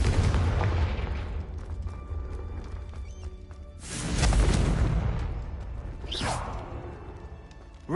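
A Confringo fire-blast spell cast in Hogwarts Legacy: a loud booming blast with a crackling roar up front, a second heavy burst in the middle, then a whooshing streak that fades into quiet.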